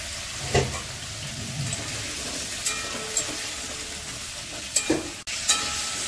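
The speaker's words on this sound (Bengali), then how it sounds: "তো কুমড়োটাও ভাজা হয়ে গেছে" Pumpkin pieces fry in oil in a pan for khichuri, a close, steady sizzle with a few spatula scrapes and stirring knocks spaced through it.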